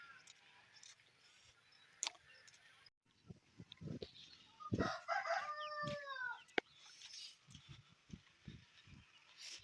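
A rooster crows clearly amid clucking chickens at a village chicken shop, with harmal smoke given to sick birds, faint voices and scattered knocks nearby.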